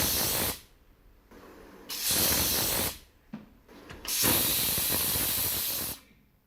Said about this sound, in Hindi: कुकर की सीटी पे कहाँ डांस होता है यार